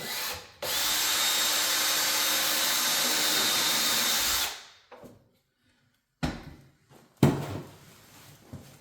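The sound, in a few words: drilling a pilot hole with drill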